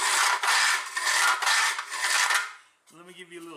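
Old 5-horsepower Briggs and Stratton recoil starter, 48 years old, with a newly installed spring, giving a harsh scraping, rasping rattle in rapid bursts, loud and close, followed by a brief voice.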